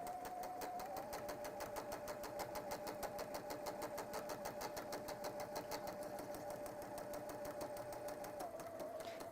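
A sewing machine stitches a seam over elastic in a fast, even run of needle strokes that stays steady and close for the whole stretch, with a brief slowdown near the end and no talk.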